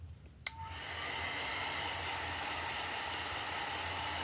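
A small heat dryer switches on with a click and then blows a steady, close airy hiss, drying shimmer chalk paste on a craft project, with no talking.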